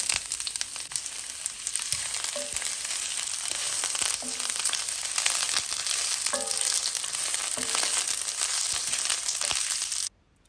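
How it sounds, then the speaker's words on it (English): Chopped onion sautés in hot olive oil in a pot, making a loud, continuous sizzle with scattered crackles and a few scraping stirs before it stops abruptly at the end. "So here I'm just putting some olive oil in the pot and then I'll put some onion to saute."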